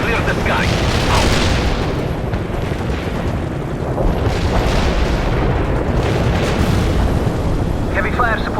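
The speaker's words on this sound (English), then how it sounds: "Napalm delivered." Napalm strike explosions in World in Conflict, a dense, continuous roar of booming blasts and rumbling fire, loud and close, with radio voices talking over the barrage.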